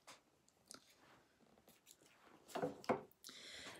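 Scissors snip through finished knitting in a few short, close crunchy cuts, with two louder snips near the end amid quiet handling rustle.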